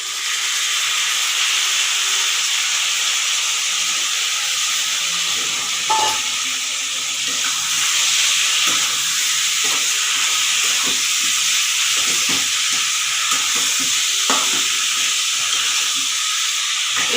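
Onions hit hot spices in a pan and sizzle with a steady, bright hiss that runs unbroken at close range, with faint clinks underneath.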